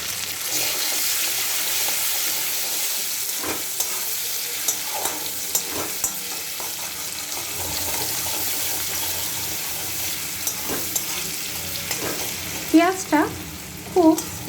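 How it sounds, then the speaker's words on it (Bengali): Chopped medium onion frying lightly in oil with bay leaves and cumin seeds, a steady close sizzle with scattered stirring clinks and scrapes, a few sharper metallic knocks near the end. "লালচেভাবে কিন্তু ভাজবো না পেঁয়াজটা হালকা একটু ভাজবো"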